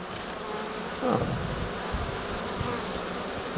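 Black honey bees buzz steadily on a hive frame, a close, continuous droning hum that swells briefly, with no voices.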